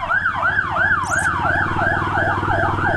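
An ambulance siren wails loud and close in a steady rising-and-falling cycle, repeating about every half second over the low rumble of road traffic.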